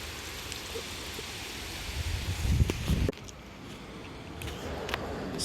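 Rain and gusting wind during a dark storm make a steady hiss outdoors. The noise swells with a louder gust before dropping off abruptly, and a few faint patters follow.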